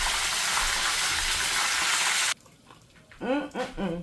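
Chicken deep frying in hot oil, a loud dense crackling sizzle that cuts off abruptly halfway, followed by a quiet pause and then a person speaking.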